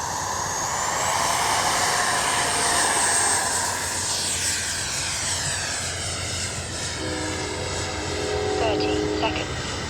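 A radio-controlled MiG-29 with twin 64mm electric ducted fans takes off, its loud, steady high-pitched fan whine sustained throughout with a broad rushing roar, while a voice speaks briefly.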